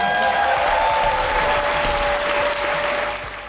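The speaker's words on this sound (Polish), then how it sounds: "Wielkie brawa." A large audience at a dance show applauds the performers in a thick, sustained wash of clapping, loud and steady throughout with a faint tone ringing beneath, easing slightly at the close.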